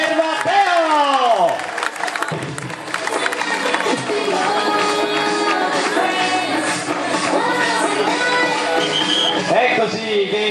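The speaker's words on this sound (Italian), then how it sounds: "Un grande applauso per Gianluca per Matteo" At a half-marathon finish line in Scafati, a crowd applauds and cheers a runner as he arrives. The dense clapping carries on under an announcer's loud, echoing voice over the PA.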